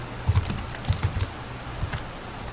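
Keys clack on a computer keyboard as a name is entered into vaccination software, a short run of quick, light taps in small clusters, close and moderately quiet.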